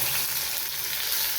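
Curry leaves and garlic fry in a pan, a brief, dense, hissing sizzle, close and even throughout, with no speech.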